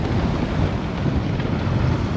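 Strong wind buffets a sailboat crossing open Atlantic water from Horta toward Gibraltar, a steady loud roar with rushing gusts and low rumble, no voices.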